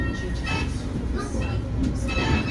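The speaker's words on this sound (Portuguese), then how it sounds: "Esse que nós estamos cruzando agora é o trem de Magnesita." A Magnesita train passes close alongside a Vale passenger train, a steady loud rumble of rolling railcars with wheel clatter, while someone talks over it.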